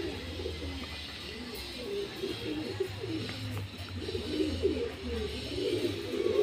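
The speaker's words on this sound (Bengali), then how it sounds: "খুব ভালো পায়রা আছে" Pigeons coo softly in a loft, their rolling low calls repeating in overlapping phrases, fairly near but quiet, with faint chirps and background noise.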